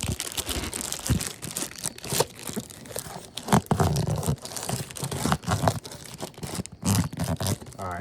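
Package unboxing for a Recover Tactical S-PRO accessory for a Walther PDP pistol: close, busy tearing and crinkling of paper and plastic wrapping, with irregular crunches and rustles throughout and no talking.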